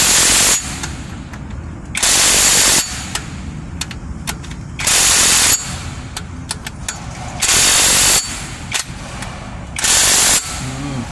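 An impact wrench removing transmission bolts from an L300 van fires in five loud bursts of about a second each, spaced evenly, with quieter workshop clatter and tapping in between.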